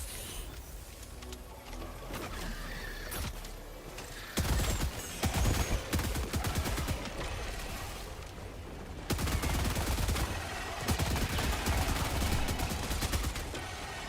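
Gunfire in Helldivers 2 as enemies are shot, a busy mix of repeated bursts and rattling shots with quieter and louder stretches, heavy and sustained across the whole span, with no talking.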